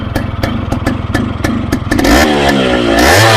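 A Yamaha RX135 two-stroke motorcycle being repaired is kicked over with several sharp clattering strokes, then catches and revs up and down loudly close by, without talk.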